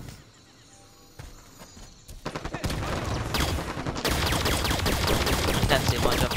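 The Needler weapon fires in Halo 5 multiplayer: a dense, rapid burst of sharp shots that starts about two seconds in and builds into a loud, continuous volley mixed with game effects.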